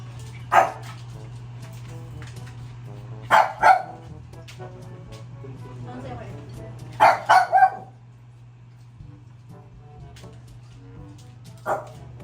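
Several short, high yips and barks from puppies come in scattered bursts over a low steady hum, with quiet gaps between.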